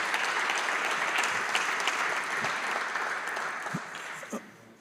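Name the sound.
applause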